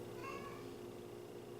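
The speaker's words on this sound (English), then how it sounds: "That's damn right, cat off screen." A cat meows once off to the side of an indoor conversation, a faint, short mewing cry over quiet room noise.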